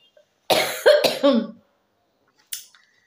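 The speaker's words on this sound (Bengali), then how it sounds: "কাশি শুরু হয়ে গেল।" A person gives a short burst of three harsh, close coughs, then a single faint cough a second later, with silence between them.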